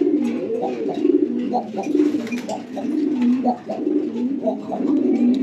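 Pigeons at a water dish give soft, repeated low coos close by, their throaty calls rolling on steadily with faint rustling around them.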